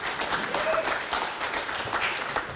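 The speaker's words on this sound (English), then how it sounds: "y'all clap it up for that." An audience at an event celebrating Black voices and music claps in a brief, busy burst of applause at moderate level, about two and a half seconds long.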